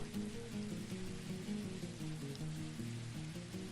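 Steady rain patters in the video game Dwarf Fortress, a soft continuous hiss layered over quiet tonal game music, faint and even throughout with no voices.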